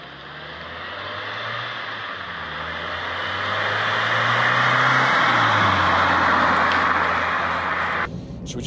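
A first-generation Mazda MX5 pulls out and accelerates, its engine note climbing steadily through a gear and then shifting, heard from inside the car over a broad rushing road and wind noise.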